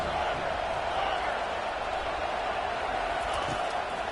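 A stadium crowd in a video game football match roars as one steady, dense wash of cheering that holds at an even level for the whole stretch.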